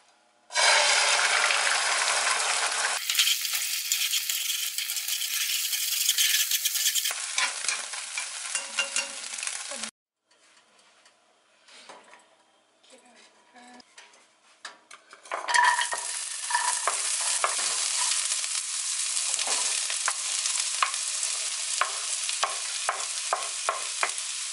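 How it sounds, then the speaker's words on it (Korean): Shrimp fried rice with carrot, onion, butter and scrambled egg being stir-fried in a pan, steady loud sizzling with scraping utensil strokes, a brief quieter pause midway before the frying resumes. "오늘 도시락은 새우볶음밥을 하려고요"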